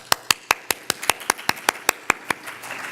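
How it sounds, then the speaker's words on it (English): A small audience at a talk-series program claps, with a dozen or so sharp, evenly spaced hand claps ringing out clearly and thinning toward the end. "My notes say wild applause."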